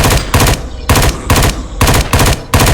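Automatic weapon fire from the shooter game SpacePunk Survival, loud close bursts of rapid shots broken by short pauses, with no voices over it.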